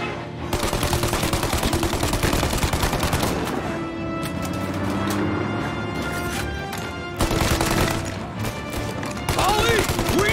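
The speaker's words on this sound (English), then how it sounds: "Get to my machine gun." Sustained machine gun fire in the Mafia Definitive Edition video game: dense, rapid bursts rattle almost continuously for about ten seconds, with brief breaks and loud, close shots, and faint voices underneath.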